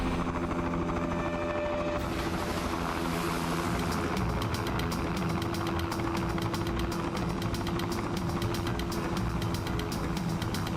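Helicopter hovering low over a pool at a stunt challenge, its steady rotor chop and turbine roar loud and continuous with a wash of churning water beneath, no talking.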